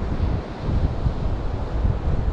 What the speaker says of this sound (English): Really nice sea. Plenty of chop and loads of movement.